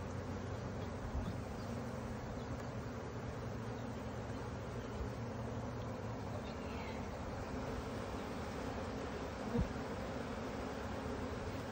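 Honey bees swarm around an open hive during an April inspection, making a constant, faint, low hum with no break. Now and then a soft knock or wind noise sits on top of the drone.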